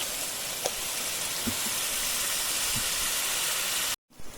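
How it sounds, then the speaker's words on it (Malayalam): Ground coconut paste poured into a hot pan for Kerala onion theeyal, giving a steady sizzling hiss with a few faint pops, close and continuous, cutting out abruptly near the end. "ഇതാ നമുക്കിതിലേക്ക് അരപ്പൊന്ന് ഒഴിച്ചു കൊടുക്കാം"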